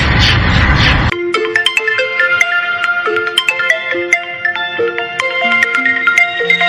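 After a burst of noise, a mobile phone ringtone plays a bright, repeating electronic melody, loud and clear, at night in a rural comedy sketch, with no one speaking over it.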